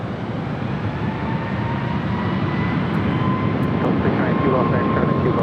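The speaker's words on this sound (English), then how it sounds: "You're looking at Southwest Airlines Flight 3638 heading to Dallas Love Field at a 737 MAX 8. Takeoff." Southwest Airlines Boeing 737 MAX 8 taking off from runway 24 left at Los Angeles International Airport, a steady loud jet engine roar held for several seconds.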